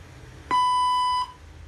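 A translator robot sounds its prompt: one clean electronic beep, steady in pitch, lasting under a second and standing alone in a quiet room.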